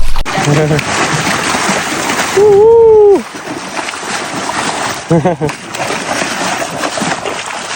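An animal splashes and plays in water at a Kazakh nomad family's camp in Mongolia. Steady sloshing and splatter run throughout, with a brief tonal call in the middle and people talking over it.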